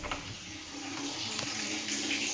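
Water runs for a bath, heated by a geyser, as a steady rushing flow from a tap. It sounds close and continuous, with no speech over it.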